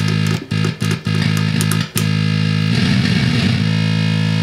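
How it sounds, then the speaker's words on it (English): Loud electronic synth tones from a Diederich Electronics oscillator with a killswitch, harmonic drones, stuttering on-off cuts early, then a warbling, gritty buzz like 8-bit chiptune noise. "Tons of noises, from like white noise type stuff to almost like Nintendo stuff, tremolo."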